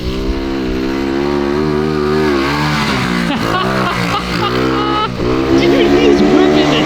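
A 1979 Honda Trail 90 barn-find motorcycle runs loud and close on its first start in 26 years, a steady buzzing engine drone with shifting revs, while voices talk and shout over it throughout.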